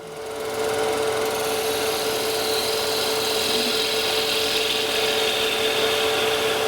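A wood lathe spins a two-piece wooden top while a tool takes a light finishing cut, giving a steady, close whirring hiss with a constant motor hum that holds evenly throughout, no voices.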